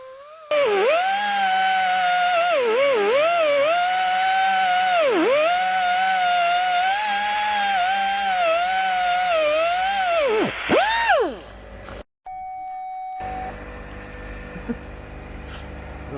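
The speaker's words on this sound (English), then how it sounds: "The secret to using one of these mini air grinders is to let it do the work." A mini air grinder cuts metal near a bracket on a VW Crafter spare wheel carrier, whining loudly and steadily, its pitch dipping as it bites into the cut before spinning down, followed by a brief clattery pause.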